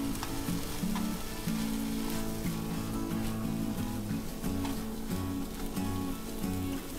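Punjabi kadai chole masala cooking under a lid in a wok, a continuous dense sizzle with a low rattling bubbling and a steady hum, constant and close.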